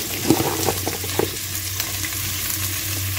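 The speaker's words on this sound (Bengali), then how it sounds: "ভালো করে পেঁয়াজ এবং রসুনটা একটু ভেজে নিচ্ছি।" Onion, garlic and bok choy stems fry in a pan with a continuous close sizzle, broken by scraping stirs in the first couple of seconds.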